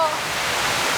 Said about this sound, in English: The waterfalls, yeah, they are 6 in number.